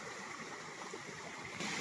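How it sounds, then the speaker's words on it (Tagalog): A stream on a farm lot flows steadily in a continuous, even rush, soft and constant with no voices. "ang maririnig mo lang po dito mga lagaslas ng tubig"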